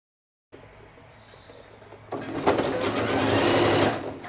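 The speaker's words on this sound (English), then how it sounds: "from here you're just going to start stitching" A sewing machine stitches along a built-up collar neckline, starting after a moment of quiet with a low motor hum, then breaking into a loud, rapid rattling run of stitches for about two seconds before slowing.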